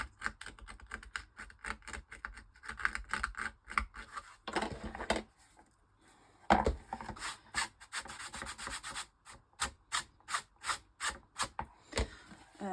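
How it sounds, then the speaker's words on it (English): Hand scraping at an old book spine as it crumbles to dust, repeated close, dry scratchy strokes in short rhythmic bursts with brief pauses. "It's just falling into dust when I scrape it."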